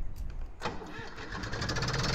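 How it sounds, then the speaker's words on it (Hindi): A Zetor HMT 2511 mini tractor with a PTO attached, in the video game Farming Simulator 18, cranks and catches partway through, then settles into a steady, fairly loud running engine. "तो लो भाई स्टार्ट हो गया"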